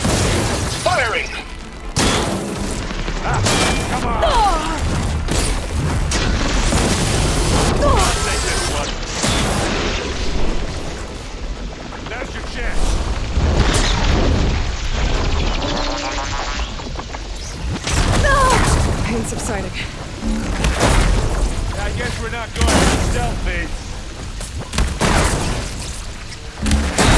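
Weapons fire and explosions from the Horizon Forbidden West video game, with repeated heavy booms, crashes and impacts in dense bursts over a long stretch, under intermittent voices and speech.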